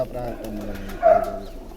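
Pigeons at a traditional pigeon-keeping loft in Punjab, with a brief, fairly close burst of cooing rising out of a steady murmur of people talking.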